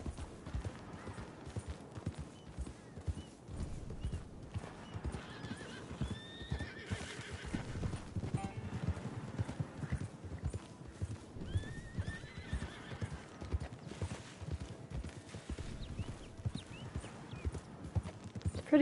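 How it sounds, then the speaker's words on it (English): In Red Dead Redemption 2, horses trot with continuous clip-clopping hooves, and whinnies rise now and then over the rhythm across a long stretch, with occasional faint speech. "Horses are these."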